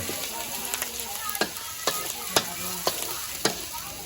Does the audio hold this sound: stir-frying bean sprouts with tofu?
yes